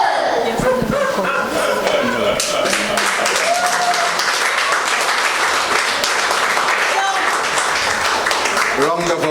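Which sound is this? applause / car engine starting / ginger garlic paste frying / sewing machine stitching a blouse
applause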